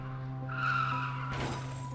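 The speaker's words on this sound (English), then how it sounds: "I shifted into reverse and stepped on the gas." Car tires skid and squeal while a car reverses hard, a sustained high screech over a steady engine hum, with a rough burst of noise near the end.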